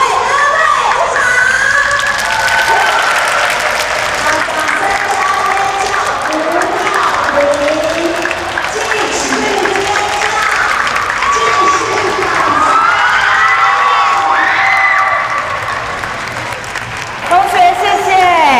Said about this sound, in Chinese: 希望我们等一下跳完还有这种掌声哦